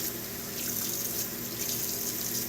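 Tap water runs steadily from a faucet into a sink during a ferret bath, a continuous close splashing hiss with no talking.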